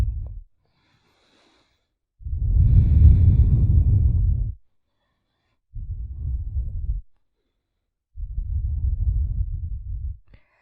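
Deep breathing during flowing yoga lunge movements: three long, steady breaths, each a couple of seconds long, separated by pauses of silence, close and fairly loud with no talking.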